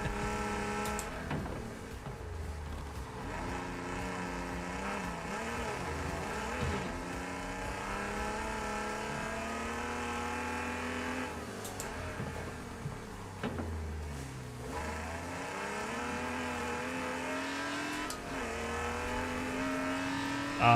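Race car engines in the iRacing simulator game, a continuous high whining engine drone rising and falling through gear changes, with occasional tyre squeals and thumps, steady and fairly loud throughout, no talking.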